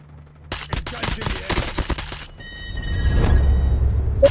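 An M13 rifle fires in a video game. Rapid close bursts of automatic fire run for about two seconds, followed by a rumbling explosion-like wash and faint electronic tones.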